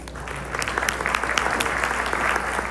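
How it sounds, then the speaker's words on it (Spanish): An audience applauds after a talk at a safety conference, steady dense clapping lasting throughout, fairly close and alone. "un aplauso."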